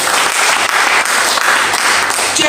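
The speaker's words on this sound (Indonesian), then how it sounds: "Tepuk tangan yang paling meriah." A congregation at an apartment church service applauds loudly, a dense sustained roar of many hands clapping that stays strong and even throughout, close and without talk.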